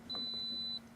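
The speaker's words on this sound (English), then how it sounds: "Beep. Beep." A single steady electronic beep tone holds for most of a second, clear and fairly loud over a low background hum.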